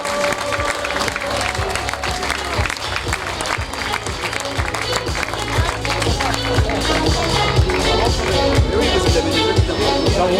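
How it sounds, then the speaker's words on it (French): Crowd at a stage podium ceremony of the Tour des Landes cycling race applauding steadily for about ten seconds, with rhythmic clapping, scattered cheers and background voices mixed in. "mais on va l'applaudir."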